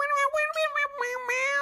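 A cat meows in several drawn-out, tonal cries, near and loud, with short breaks between calls and no other sound around them.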